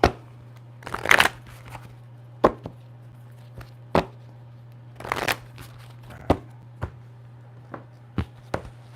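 Tarot cards shuffled by hand in quick, scattered bursts, with sharp riffles and soft taps as the deck is squared, over a faint steady electrical hum in a quiet room.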